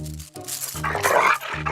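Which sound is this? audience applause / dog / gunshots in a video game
dog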